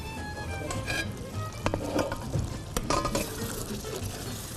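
Dahi pasanday meat frying in a pan: a quiet, close, steady sizzle broken by occasional light clinks and stirring scrapes against the metal.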